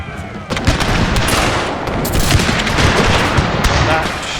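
Musket volleys ring out in the Thirty Years' War battle game Total War, a dense, continuous crackle of overlapping gunshots and battle din, loud and close throughout.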